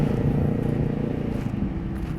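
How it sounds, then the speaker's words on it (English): A steady engine roar from motorcycles going by at the Diablo Lake overlook, fairly loud and continuous with a slight rough rumble throughout. "Yes, motorcycles here."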